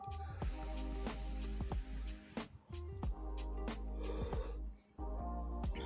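Puffco Proxy bubbler attachment drawing a hit: steady bubbling water percolation with rapid gurgling pops, close and continuous, pausing briefly twice.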